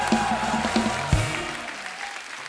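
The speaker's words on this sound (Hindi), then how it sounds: "जोरदार तालियां हो जाए हमारे मेहमानों के लिए" A studio audience at a TV comedy show applauds the guests in a short burst of clapping beneath background music, with a brief thump partway through.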